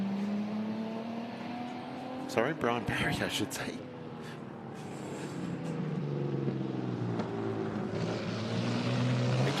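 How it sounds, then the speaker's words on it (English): A Jaguar D-Type replica powered by a Jaguar XK engine races past at a sprint event, its loud engine note rising and falling through gear changes, with a commentator talking over the noise throughout. "we have that glorious sound of the Jaguar XK engine"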